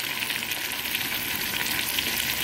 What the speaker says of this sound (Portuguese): Aí a gente frita aqui a cebola até ela murchar